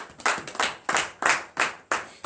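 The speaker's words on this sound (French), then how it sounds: "Donnez l'acclamation à Jésus." A church congregation at a morning prayer service claps in acclamation, several loud rhythmic bursts of hand claps about every half second, no voices.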